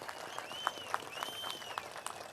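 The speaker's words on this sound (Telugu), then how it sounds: "గట్టిగా చప్పట్లు కొట్టి అభినందించండి." A crowd claps at a political rally in Amaravati, a brief burst of scattered, quiet applause with individual claps audible and a few whistles over it.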